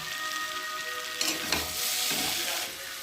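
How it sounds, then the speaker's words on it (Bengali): Soybean chunks sautéing in a ginger and cumin masala paste, a steady broadband sizzle with a few brief stirring scrapes, close and continuous with no talking. "আর এখন আমি সয়াবিনগুলোকে দিয়ে আর একটু ভালোভাবে মশলার সাথে কষিয়ে নেব।"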